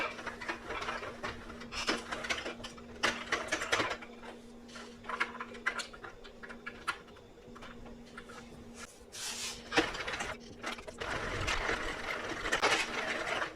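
A Sentro circular knitting machine is cranked by hand while knitting a tube scarf, giving close, fairly quiet rapid plastic clicking and ratcheting in uneven bursts, with a faint steady hum underneath.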